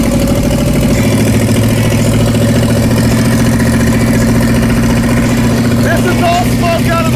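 A 1969 Ford Mustang Mach 1 pulled from a junkyard idles loud and close just after start-up, with a steady lumpy rumble, while people talk over it.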